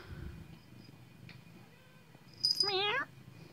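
Black cat giving one short, rising-and-falling meow near the end, close and fairly clear over a quiet room, with faint murmurs before it.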